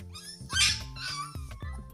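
A toddler imitates a cat, giving a drawn-out, wavering mewing cry with a few short squeaky sounds after it, close and fairly clear.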